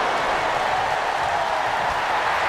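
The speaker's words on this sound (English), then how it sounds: "The sound of this crowd is deafening" A wrestling crowd in WWE 2K22 on PS5 roars during a 2 out of 3 pin-falls match, a dense, loud, unbroken wash of cheering and applause throughout.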